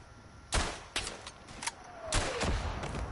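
Machine gun fire in the World War I shooter Verdun, a few sharp bursts of shots spread across the moment, moderately near against a quiet battlefield background, with no talking.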